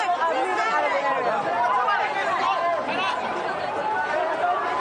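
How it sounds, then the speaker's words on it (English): A dense crowd of protesters on Nathan Road in Hong Kong keeps up a constant babble of voices and shouting at close range, with no pauses. "if you can hear me through all that crowd in the background"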